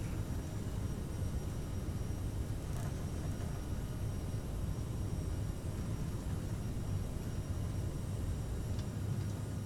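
Airliner taking off from Zurich in Microsoft Flight Simulator 2020, a steady, broad engine roar with a low droning hum holding constant throughout, no voices over it.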